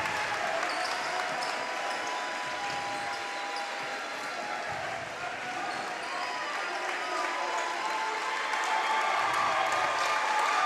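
Boys' high school basketball crowd in a gym on its feet during the final seconds of a game, a sustained roar of cheering and clapping with sneaker squeaks and ball noise, a commentator talking over it.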